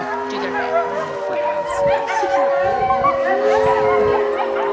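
Several wolves at the Colorado Wolf and Wildlife Center howl together in a layered chorus of long, overlapping, wavering tones that fill the whole stretch at close range.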